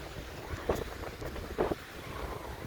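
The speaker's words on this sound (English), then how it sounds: "The wind isn't too bad, typical, but not bad at all." Wind blowing across open sand and surf at Popham Beach, Maine, a steady broadband rush with a couple of brief gusts buffeting the microphone, with no voices.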